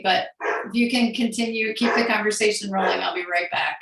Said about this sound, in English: you can hear the barking dog in the background